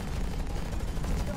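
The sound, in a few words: mech gunfire in video game Hawken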